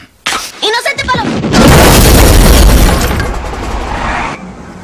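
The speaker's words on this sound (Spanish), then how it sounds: "Parece que hubo una explosión en la casa de los Simpson." Cartoon explosion at the Simpsons' house, a single loud blast with a sustained crashing rumble that lasts several seconds and fades at the end, coming after a short burst of speech.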